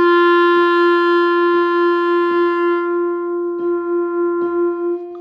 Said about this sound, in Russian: я нажимаю фа на пианино и соль на кларнете.